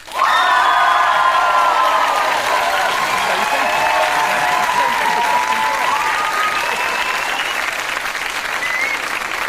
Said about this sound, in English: OK, and everyone who doesn't, cheer now.